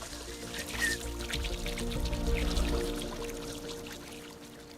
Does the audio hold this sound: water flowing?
yes